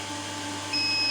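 A 5 kW off-grid hybrid UPS inverter with a 5000 W pure sine wave output and a toroidal transformer hits 100% load, and its overload alarm starts a steady, high-pitched electronic beep over a constant low electrical hum.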